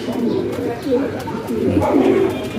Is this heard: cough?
no